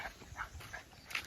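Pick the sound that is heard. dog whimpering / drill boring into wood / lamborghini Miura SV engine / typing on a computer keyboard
dog whimpering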